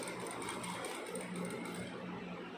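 A Jack sewing machine stitches fabric at close range with a fast, even, continuous mechanical whir at moderate loudness, alone with no talk.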